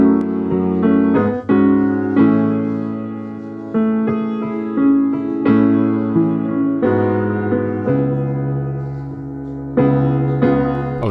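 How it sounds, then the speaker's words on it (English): Piano chords are recorded as a phone voice note, a slow sequence of sustained chords struck one after another, each ringing and fading before the next, with a slightly thin, boxy tone. "I just played in some chords on the piano."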